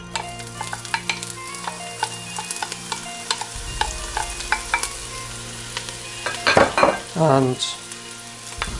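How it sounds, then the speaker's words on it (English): Onions frying in a couple of tablespoons of oil for braised squirrel, with stirring scrapes and a steady close sizzle; bursts of louder clattering stirs come near the end, and a voice briefly speaks. "we're just going to add a couple of tablespoons of the oil. We're then going to go in with our onions"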